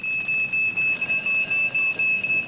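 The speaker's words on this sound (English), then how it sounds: "this house is fitted with a smoke alarm which smells the smoke and warns" A house smoke alarm sounds a shrill, steady electronic tone in repeated pulses, loud and close, with no talking.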